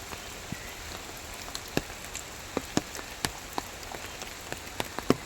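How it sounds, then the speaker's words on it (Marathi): Rain falls steadily on a green morning, a soft continuous patter with distinct drips landing close by at irregular intervals, no voices. "पाऊस लागतोय आणि मस्त असं हिरवगार वातावरण झालं आहे"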